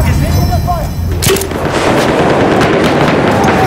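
A tank is blown up in the video game Battlefield, with heavy booming explosions and crackling gunfire rolling loud and close, a sharp blast near the middle followed by sustained rumbling debris.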